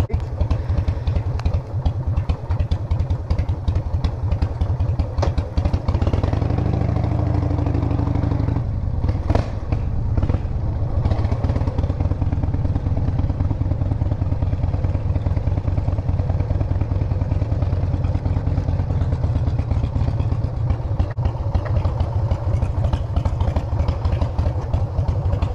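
A Harley-Davidson motorcycle engine rumbles steadily and loudly for the whole stretch, with a deep, continuous low throb and a brief rev partway through, and no talking over it.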